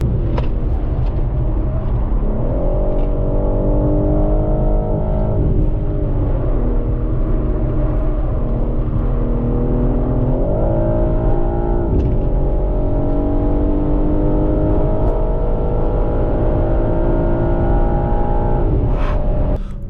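A 2023 BMW M3 Touring drives a lap of a race track, its engine droning loudly from inside the car and rising and falling in pitch through gear changes and acceleration.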